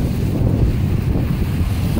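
Strong wind buffets an umbrella outdoors, a loud continuous low rumble of gusts hitting the microphone with no pauses.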